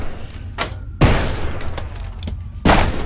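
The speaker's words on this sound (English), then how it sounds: "Does this guy keep shooting me?" Gunfire in the video game Choo-Choo Charles: three sharp, loud shots spaced unevenly over a few seconds, each with a quick decaying tail over a low rumbling backdrop.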